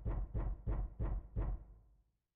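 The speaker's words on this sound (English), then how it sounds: "Are they knocking the code?" Five heavy, evenly spaced knocks on a door in the video game Nine Hours, Nine Persons, Nine Doors, dull and booming, the last one trailing off into silence.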